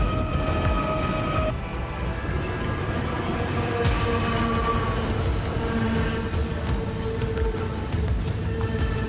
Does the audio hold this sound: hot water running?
no